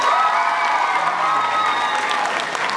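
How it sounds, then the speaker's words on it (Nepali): Loud, sustained applause from an audience at a satirical comedy stage event in Nepal, steady clapping that fills the whole stretch with a faint crowd murmur and no speech over it. "फेरि एकचोटि उहाँलाई जोरदार ताली."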